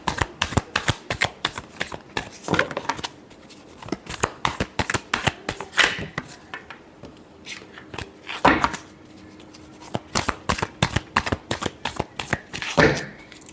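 Tarot cards shuffled by hand in rapid crisp riffling bursts, repeated many times with short pauses between, close and fairly loud with no voice over them.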